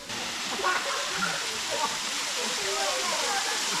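A waterfall in the Philippines rushes with a steady, dense roar of falling water throughout, with indistinct voices faintly mixed in.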